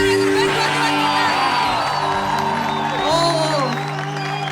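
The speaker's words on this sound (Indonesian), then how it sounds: "kasih tepuk tangan yang terbaik buat Tuhan kita" Large youth conference crowd applauding and cheering loudly, with whoops and shouts rising over steady clapping throughout, while an amplified voice talks over it.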